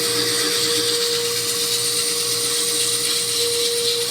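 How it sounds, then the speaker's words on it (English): Steady, loud whirring of a lathe with a sanding tool working the inside of a long-necked wooden hollow form, running continuously with a constant hum and broad hiss throughout. "And that's how I sand inside."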